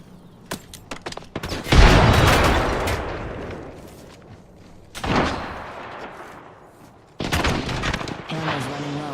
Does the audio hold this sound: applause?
no